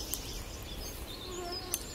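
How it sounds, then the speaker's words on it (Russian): Mosquitoes whine around an outdoor campfire on a summer evening, a faint thin buzzing that drifts in pitch over quiet background noise, with a couple of brief ticks. "Сегодня комаров, ну уже лето, считай, уже комаров у нас много."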